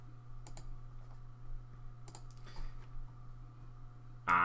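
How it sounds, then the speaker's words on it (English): Soft keyboard typing clicks in short scattered bursts at a desk during a live miniature painting and chat stream, over a steady low hum, ending with a sharp louder noise. "have I typed that in wrong?"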